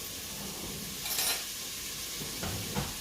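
Red onion cooking in a hot Instant Pot gives off a soft sizzle with a couple of brief stirring scrapes, quiet and close.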